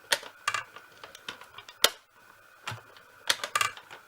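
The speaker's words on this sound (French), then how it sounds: "Je forme mon sandwich et là on passe dans la machine." A manual die-cutting machine cranks cheap Aliexpress and eBay metal dies through a sandwich of paper held with masking tape, making sharp, irregular clicks and ratcheting ticks at close range with short pauses between bursts.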